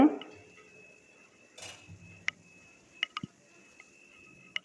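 Lid set on a cooking pot of beef brain curry: a soft clank at the start followed by sparse light metallic taps and clinks, quiet and close, with faint kitchen background.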